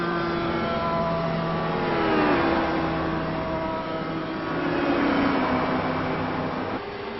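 Race cars in the pit lane at Sebring during an ELMS race, engines droning and shifting pitch as they move through, loud and continuous with a slight swell and fade, without voices.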